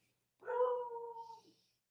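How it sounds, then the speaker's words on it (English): A dog gives a single drawn-out, whimpering howl lasting about a second. It is clear and fairly close, with nothing else around it. "The dog is also very upset about this whole situation."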